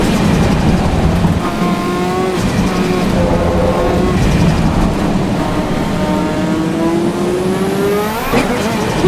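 Race car engine in the racing game Assetto Corsa Evo, loud and continuous, revving up in rising sweeps with brief gear-change dips, close and alone without talk.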